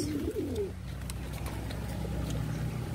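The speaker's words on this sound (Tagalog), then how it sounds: "Ito yung mga kalapatids." Pigeons coo softly at close range, with low repeated throaty calls over a continuous low rumble, and a few faint clicks and rustles in the background.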